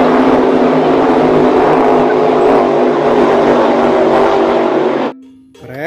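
A toy speedboat's motor whirs loud and steady for about five seconds, then cuts off abruptly, leaving a faint hum and quiet handling noises.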